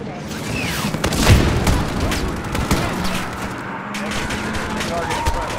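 Rifle gunfire and booming explosions from the Call of Duty Modern Warfare 2019 campaign, with sharp shots over a dense, continuous battle rumble while voices call out commands.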